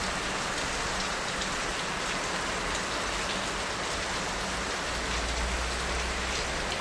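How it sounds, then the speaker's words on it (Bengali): Heavy rain pours down steadily outside a home, a dense, unbroken hiss of drops hitting surfaces with no pauses and no voices. "এই দেখেন কি বৃষ্টি চলছে"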